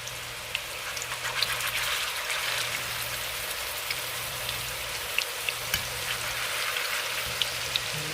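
Homemade turkey sausages frying in oil in a pan, a continuous close sizzle with scattered sharp pops and crackles spread across several seconds, no talking.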